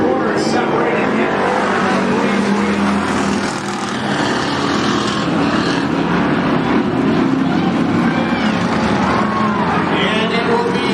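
Race cars lapping Cottage Grove Speedway, a dense, continuous engine roar with passing cars swelling and fading, while an announcer talks over it.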